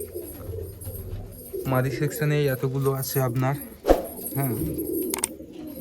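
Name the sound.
many pigeons cooing in breeding loft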